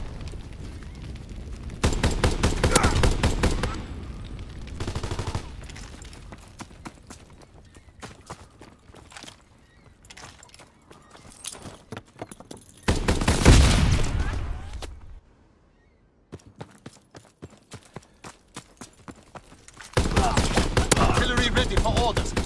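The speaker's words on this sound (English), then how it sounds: "Firing primary battery." An artillery battery fires in the World War II shooter Call of Duty WWII, with heavy booming salvos and rapid crackling gunfire arriving in several loud bursts, separated by quieter stretches of scattered shots.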